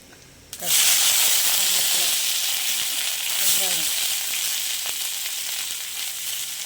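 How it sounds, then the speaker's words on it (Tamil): Mustard seeds, urad dal and cumin tempering in hot oil, a sudden loud hiss bursting up as they hit the pan, then a sustained bright sizzle with faint popping. "கடுகு, உளுந்து, ஜீரகம் எல்லாம் போட்டு தாளிச்சிடலாம்"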